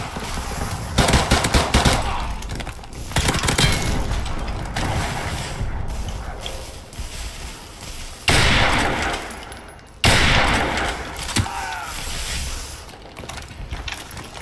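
Bursts of automatic gunfire in a Call of Duty Modern Warfare Gun Game match, loud rapid volleys coming in several waves with brief pauses, mechanical clicks and clatter between them.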